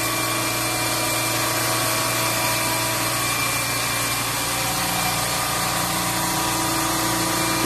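An air compressor on a refrigeration rack runs steadily, a continuous loud mechanical drone with a strong low hum and a broad hiss of vibration that holds unchanged throughout, no voices over it.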